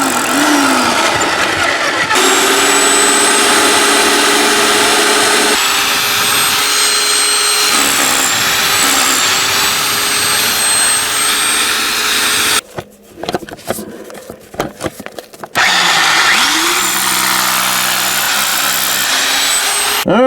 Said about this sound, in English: I'm gonna start drilling my fan cut